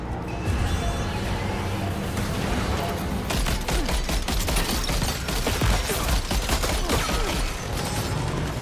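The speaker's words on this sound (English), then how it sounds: "I'm going to see how this machine gun operates." Rapid machine gun fire from a vehicle-mounted gun in Death Stranding 2, a dense continuous burst that starts after about three seconds and rattles on loud and close, layered over game music and engine rumble.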